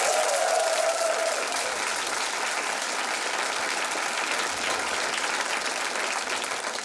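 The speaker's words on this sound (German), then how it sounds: "wodurch sich das Publikum genötigt fühlen wird, dies mit einem frenetischen Applaus zu erwidern" A theatre audience gives sustained, loud, dense applause greeting a comedy performer on stage, continuous clapping throughout.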